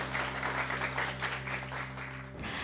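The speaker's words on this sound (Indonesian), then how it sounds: "Tepuk tangan lagi buat teman-teman semuanya." Steady applause from a studio audience at the close of an Indonesian talk show, dense clapping running evenly throughout, with a low musical hum beneath and a brief shift near the end.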